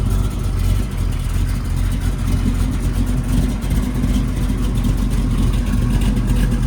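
Steady, loud V8 exhaust rumble from a 1969 Chevrolet Camaro SS restomod convertible with a 383, running continuously up close with a low, throaty idle and mild revving throughout, no voices.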